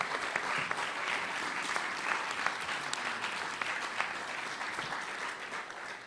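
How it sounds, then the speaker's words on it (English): A luncheon audience at the National Press Club gives a round of applause, sustained and fairly close clapping that holds steady for several seconds before tapering at the end. "And please now give them your round of applause."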